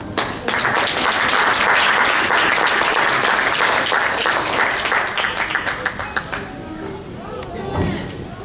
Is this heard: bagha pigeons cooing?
no